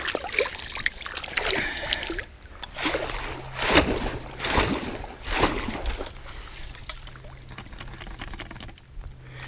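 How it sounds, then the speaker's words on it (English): A fishing landing net is swished and dunked in clear sand-pit pond water, giving repeated splashes, pours and dribbling runoff in uneven bursts, close and fairly loud. "I like to wash off the net in between fish."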